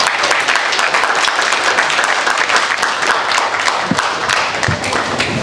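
Audience at a live talk event applauds for Chase, a dense steady wash of many hands clapping that stays loud and continuous throughout, with a few cheers scattered in the crowd.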